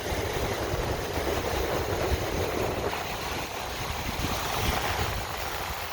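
Ocean waves and onshore wind at a beach, with a broad, continuous roar of surf and wind noise that stays loud and steady throughout, with no voices.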